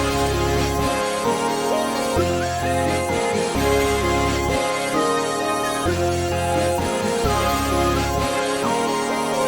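A bright synth lead from a Serum bank plays a looping melody with its high end boosted. Bold and sustained over a steady low bass layer, it repeats its phrase through the mix.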